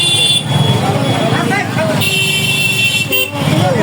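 Busy market street jammed with traffic in Lalmonirhat on the eve of Eid, with car horns tooting repeatedly and engines rumbling close by while people talk continuously over the din.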